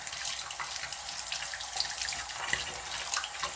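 Tap water runs steadily over a plastic retainer being rinsed at a sink, a close, continuous splashing hiss with slight fluctuations and no voices.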